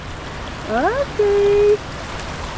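Steady rushing of a flowing stream outdoors in a rural province, a constant wash of water noise heard nearby while a person briefly speaks over it.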